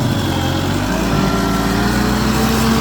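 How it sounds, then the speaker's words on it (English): A stump grinder chewing into a large uprooted tree stump, its engine roaring steadily and loudly with a constant droning hum throughout, close by and with no voices. "I told him to grind the outer crest first."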